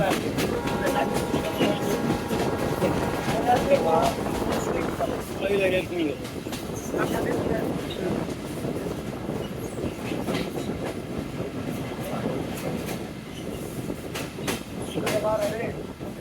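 Aparajita commuter train pulling into Nachol railway station, a steady rumbling roll of rail cars with faint clicking and brief squeals, continuous and fairly close throughout.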